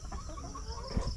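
A chicken clucking nearby outdoors, a few short, soft clucks over faint background noise.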